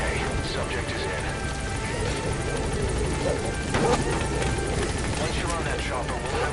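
A helicopter in Metal Gear Solid V, a dense continuous rotor drone with buzzing whine, loud and close, with a brief crash-like burst partway through and voices talking over it.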